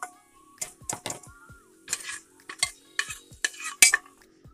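Fried onions lifted out of hot oil in a home kitchen for biryani, heard as scattered clinks and taps of a utensil against the pan, with a faint sizzle between the sharp knocks.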